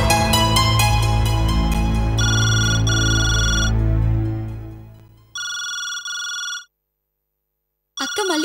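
A telephone rings in a dramatic household scene, a loud melodic ringtone with repeated bursts of tones that cut off, followed by silence and then a final short ring at the end.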